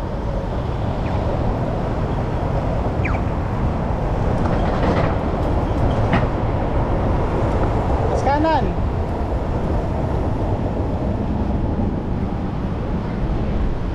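An MRT elevated train rumbles past overhead while riding along a bike lane beneath the tracks, a steady loud roar with wind noise on the microphone and a few brief squeals.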